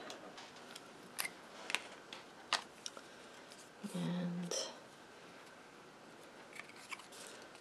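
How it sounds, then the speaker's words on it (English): Scissors snipping through card stock to cut a fishtail end on a stamped card piece: a few sharp, separate clicks and a short crunchy cut, close and quiet, with a brief spoken word. "took my scissors, I cut up to the center, cut a fishtail."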